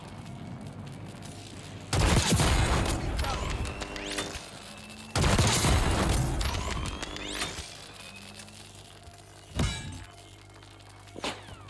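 Gunfire in the video game Call of Duty: Warzone, with two loud sustained bursts of shots followed by a few sharper isolated cracks, heavy and close, with scattered game effects in between.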